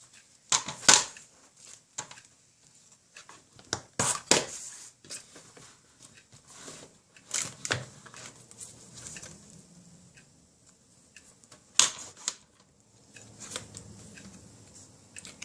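Scissors snipping scrap paper into strips for handmade cards, a series of close, crisp cuts in uneven bursts separated by quiet pauses and light paper rustling.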